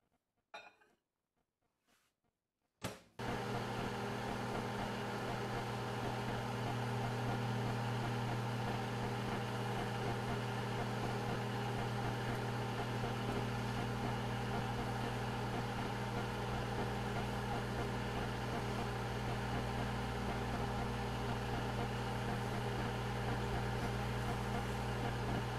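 A microwave oven hums steadily while cooking keto bread in a mug, a constant droning whir that starts abruptly after a few seconds of near silence and runs unbroken to the end.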